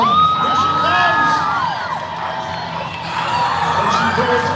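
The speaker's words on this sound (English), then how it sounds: "The crowd is going wild." Crowd cheering and whooping at a live dog high jump show in Detroit, loud shouts and high children's yells rising and falling together, slightly dipping midway before swelling again.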